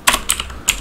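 Short burst of keystrokes on a computer keyboard as a command is entered on a z/VM system, three clicky clusters of taps close to the mic with no talking.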